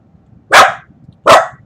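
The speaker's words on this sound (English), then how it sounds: "And a few barks." A dog barks twice, each a loud, sharp single bark close by, about three quarters of a second apart, with quiet in between.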